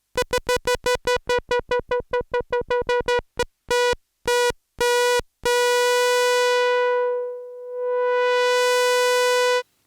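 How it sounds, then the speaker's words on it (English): Stylophone Gen X-1 synthesizer playing a steady note whose filter cutoff is swept. It starts as rapid pulsing staccato repeats that slow and spread out, then settles into a sustained tone that dulls and brightens again. "I'm changing the cutoff of the filter."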